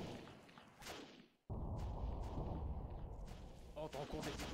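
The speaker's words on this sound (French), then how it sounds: "On entend des explosions au, loin." Distant explosions and artillery fire in the World War I video game Battle of Empires 1914-1918: muffled booms and thuds roll in over a rumbling battlefield, with a brief drop to near silence early on and voices talking throughout.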